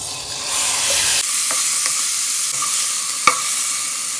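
Chicken breast pieces fry in a mix of olive oil and plain oil, giving a steady, close sizzle with a sharp clink from a utensil near the end.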